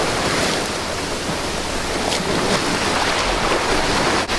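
Ocean waves wash against a rocky Mexican shore, a loud steady roar of surf with wind, no voices heard.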